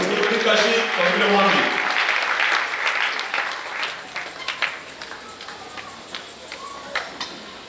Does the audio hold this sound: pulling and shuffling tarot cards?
no